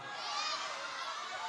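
Crowd cheering and shouting for the winning red-corner fighter at a Kun Khmer bout in Cambodia. The broad roar is sustained and loud, and it stays steady for the whole moment.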